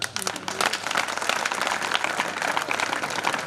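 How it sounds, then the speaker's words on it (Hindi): An audience at a Hindi poetry gathering (kavi sammelan) in Kotdi claps together, a dense, steady wash of applause that lasts the whole stretch, with a few voices mixed into the crowd. "मैं चाहता हूं हमारे लाडले पीएम आदरणीय मोदी जी के नाम पे सब एक बार छोटा तालियां"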